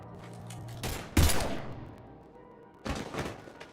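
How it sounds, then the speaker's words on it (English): Gunfire erupts in Mass Effect 3 Legendary on the Citadel, in loud, sharp bursts: one at about a second in, a heavier volley just after, then another burst near the end, with quieter ambience between. "Now open fire!"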